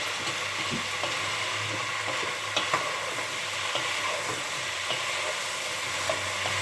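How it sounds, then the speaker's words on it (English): Spices being stirred into a pot of chicken stew, a steady scraping swirl over a constant low bubbling simmer, with a few light knocks of the spoon against the pot. No one speaks. "I'm going to add all those spices. And I'm going to give that a good swirl."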